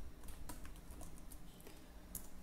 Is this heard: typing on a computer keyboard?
yes